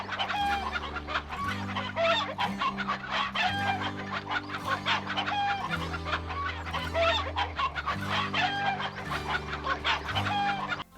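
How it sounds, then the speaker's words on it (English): Chickens cluck and a rooster crows in The Hobbit video game, with repeated bird calls over a looping, layered game music bed that runs steadily throughout. "If you wake up the chickens, they'll chase Bilbo out."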